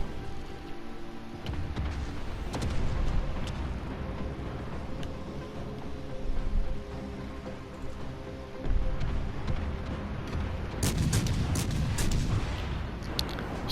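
Booming naval gunfire and bomb explosions from a World of Warships battle, with repeated heavy blasts, loud and dense throughout, a sharper burst of impacts near the end.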